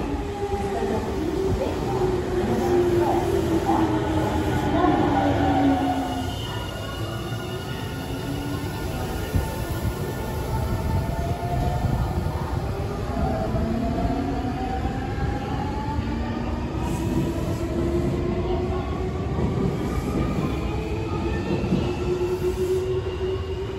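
A train rolls into Nankai Sakai Station, wheels squealing and screeching in long rising and falling tones over a steady rumble, loud and close throughout, with a Japanese platform announcement.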